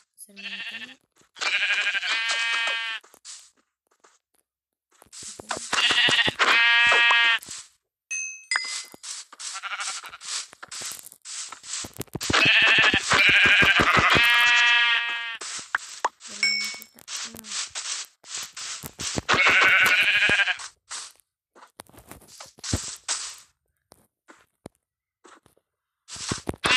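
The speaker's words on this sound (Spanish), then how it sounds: "Voy a matar un poco de ovejas." Sheep in the video game Minecraft bleat repeatedly as they are killed, short loud tonal cries in bursts with gaps, mixed with clanging game effects and occasional pings.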